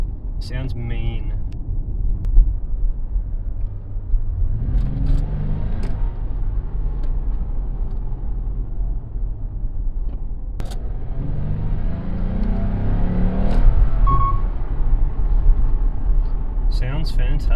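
A Toyota Mark X GRX133 with its 2GR-FSE V6 and new intake drones steadily from the cabin while driving, rising through two gentle accelerations, with a voice speaking over the rumble.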